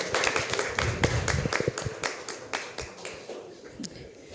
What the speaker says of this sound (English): Yusaku Imamura from Tokyo Gidai, maybe please come here to the stage and have applause.